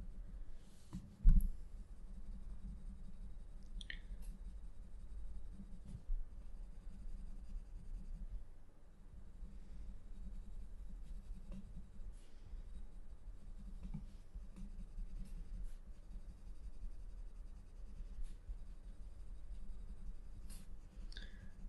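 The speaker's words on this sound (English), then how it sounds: "my pressure is a little bit harder because now I'm in the burnishing mode actually" A Prismacolor colored pencil burnishes paper under firm pressure, a faint, close, continuous scratchy rubbing with occasional small taps and clicks, no talking.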